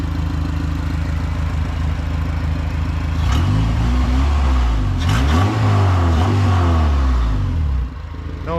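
An Acura RSX car engine runs at a steady idle after a cold start, then revs up and down a few times before settling back, loud and close.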